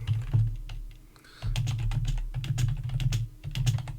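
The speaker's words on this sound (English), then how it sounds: "And vigorous typing ensues." Fast, vigorous clatter of a computer keyboard, dense key strikes in bursts with a short lull midway, close and steady.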